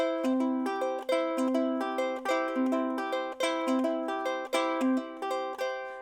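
A ukulele is strummed in a steady repeating pattern, chords ringing clearly with quick rhythmic strokes and no talking.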